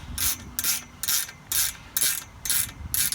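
Repeated ratcheting of a 7/16 wrench tightening a Solarcon A-99 antenna, six or seven loud rhythmic bursts about half a second apart, close by with no talking.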